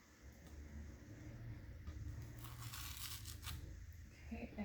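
A lid seal on a farm kitchen container is peeled back, giving a faint crinkly tearing rasp in a short burst midway through an otherwise quiet, low hum.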